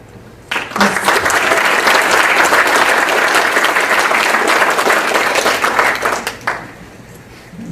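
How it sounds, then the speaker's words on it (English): Vigorous applause breaks out at a Santa Clara candidates' night for police chief, held at S.E.S. Hall. It starts abruptly, stays dense and loud for about six seconds, then tapers off quickly. "hold your applause until both candidates are introduced"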